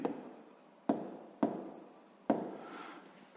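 Chalk or marker strokes on a board during a sixth-grade math lesson, three or four separate scratchy bursts each starting sharply and fading, close and clear with no talking.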